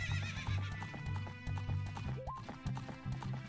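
Horse from Ocarina of Time, the Space World '97 build, with rhythmic hoof clip-clops over steady game music and a sharp neigh midway; a faint voice may be present under the sounds.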